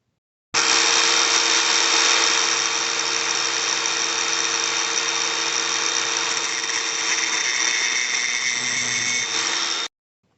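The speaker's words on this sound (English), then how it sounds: "we'll just grind that down" A power grinder grinds down a rivet head on a RipStik torsion bar held in a vise, giving a steady, loud whine that runs unbroken for about nine seconds and then stops, with no talking.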